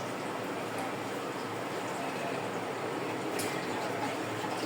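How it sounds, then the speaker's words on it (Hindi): Water is poured into a pot of two-season-old rice in a home kitchen, heard as a steady, moderately loud rushing splash that runs continuously without pause. "2 कटोरे पानी के डालूंगी।"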